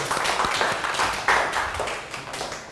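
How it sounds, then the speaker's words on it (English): Children applaud together in a classroom after a spelling activity, a brief burst of dense, overlapping hand claps that swells and fades over a few seconds, close and fairly loud. "Give yourselves a round of applause for great spelling."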